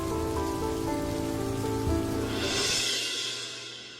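Steady rain pours down in a continuous dense hiss of drops on surfaces, loud and unbroken, easing slightly near the end, with no voices.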